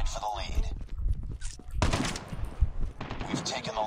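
Rapid gunfire from the mobile shooter game Call of Duty Mobile, bursts of shots in quick succession mixed with game sounds, with people talking over it.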